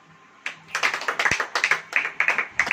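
A church congregation claps in quick, crisp bursts of rhythmic, rather sparse hand claps, close and clear with no talking over them.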